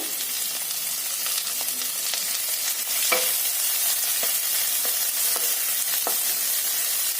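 Onion and chili sauté in a hot pan, producing a continuous close sizzle broken by scattered scraping and clicking strokes as a utensil stirs, with no talking.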